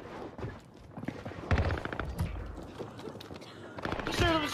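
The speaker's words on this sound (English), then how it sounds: "gunfire on the roof." Gunfire and mechanical clatter from a Call of Duty Resurgence match on Rebirth Island, with irregular bursts of shots and rattling over a busy game soundscape.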